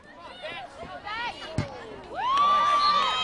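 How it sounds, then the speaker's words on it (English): Spectators cheer and shout at a CIF girls' high school soccer game, scattered voices rising into a louder sustained crowd yell, with a sharp thump of a ball kick partway through. "very loud. They cheer on quite a bit."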